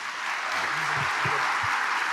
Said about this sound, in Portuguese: vamos receber com palmas